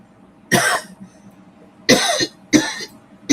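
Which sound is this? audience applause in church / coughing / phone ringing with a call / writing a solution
coughing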